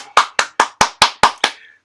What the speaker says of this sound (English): clap it up for it